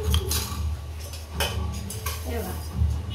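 A spoon scooping sugar into a mashed rice dish for white pulao, with repeated metallic clinks and scrapes of spoon against a steel vessel in an irregular close rhythm.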